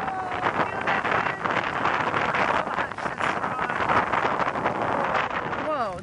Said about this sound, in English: That was a powerful wind gust.